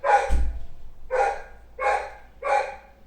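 A small pet dog barks four times in quick, evenly spaced yaps, close and fairly loud indoors.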